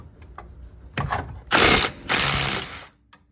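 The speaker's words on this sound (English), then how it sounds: "impact drivers make this a lot easier" Impact driver backing out the sway bar bolts on an SN95 Ford Mustang's rear suspension, several short loud ratcheting bursts of hammering, close up, separated by brief pauses.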